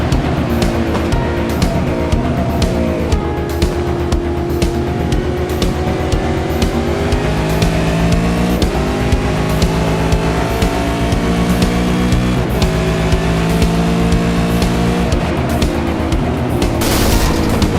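Loud onboard V8 race car engine at Imola roars continuously, revs climbing and dropping through gear changes, with clattering and wind noise throughout.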